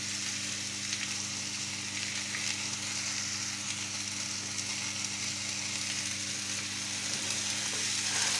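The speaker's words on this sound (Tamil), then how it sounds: "நல்லா வதக்கிக்கணும்." Ridge gourd sautéing in a pan for a Tamil ridge gourd chutney gives a continuous, fairly soft sizzle with a low steady hum underneath, close by and unbroken by speech.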